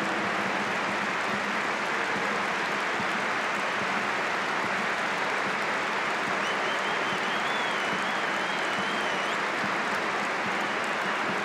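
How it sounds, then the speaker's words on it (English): A home crowd at an Arsenal football match applauds steadily as a player walks off, a dense, continuous wash of clapping from a large stadium audience lasting throughout without a break. "Warmly applauded off the field by the home fans."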